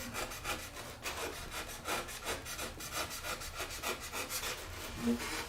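Close, steady back-and-forth hand sawing through wood along a scribed line on a model Horten Ho aircraft, each stroke rasping in a regular rhythm, with no talk.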